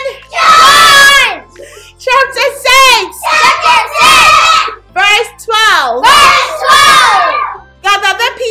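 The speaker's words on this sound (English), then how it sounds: "get ready to scream on top of your voice for your next door neighbor to hear you" Loud group of children screaming together at full voice in bursts, near and energetic, with short pauses between shouts and cheers.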